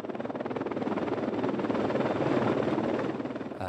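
A helicopter lands on dusty or sandy ground during whiteout trials in Switzerland, its rotor chop and turbine roar loud, steady and close, swelling slightly before easing off near the end.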